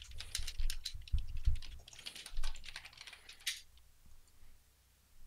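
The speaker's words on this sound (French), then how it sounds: "Il y en a un qui, sur son clavier, a fait une phrase longue" Quick, uneven clatter of keys on a computer keyboard, bursts of tapping that slow and fade toward the end, close and fairly soft with no talk.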